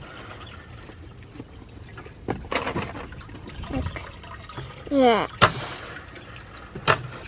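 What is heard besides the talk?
water being poured into a rabbit's water container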